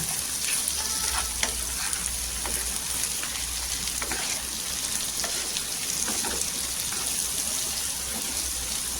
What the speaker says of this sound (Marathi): तेलामध्ये 1-2 मिनिटं छान अशी परतून घ्यायची ही भाजी